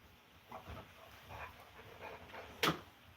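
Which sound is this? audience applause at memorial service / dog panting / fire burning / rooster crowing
dog panting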